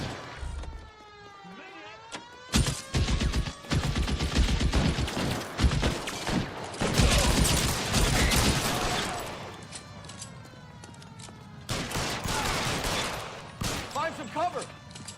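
Heavy gunfire in the 1940s Los Angeles detective game L.A. Noire, with dense clusters of loud shots over a wailing police siren, a short lull mid-clip, then renewed volleys. No talking.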